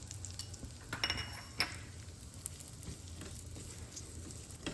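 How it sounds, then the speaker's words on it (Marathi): Poppy seeds are roasted with cashews and pistachios in a pan, giving a soft continuous sizzle with a few faint clinks of a spoon against the metal, quiet and close. "आता एक चमचा पण आपण खसखस टाकणार आहे खसखसही छान परतून घ्यायची"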